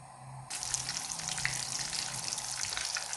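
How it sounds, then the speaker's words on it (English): Lamb tikki patties laid into a hot pan, giving a steady loud sizzle that starts abruptly and holds evenly, with a faint low hum beneath and no speech. "we're just going to fry this for a few minutes on one side"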